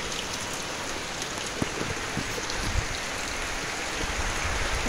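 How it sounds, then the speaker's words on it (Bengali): Heavy rain falls in the Andaman Islands, a dense, even hiss of drops on surfaces with a few louder splats, steady and moderately loud with no talking. "খুব জোরে নেমে গেল বৃষ্টি।"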